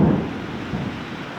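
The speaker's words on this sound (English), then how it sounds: "This is a major windstorm with a lot of lightning." A severe thunderstorm microburst with very heavy rain and damaging winds: a loud, steady roar of downpour and gusting wind with a deep rumble of thunder at the start, dense and close, with no voices.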